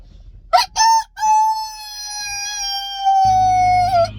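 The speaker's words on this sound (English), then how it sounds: "Here comes the rooster." A rooster crows once, loud and near, a long, clear cock-a-doodle-doo that opens with short bursts and then holds a sustained tone, with a low hum joining near the end.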